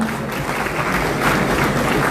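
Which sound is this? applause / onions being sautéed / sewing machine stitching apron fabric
applause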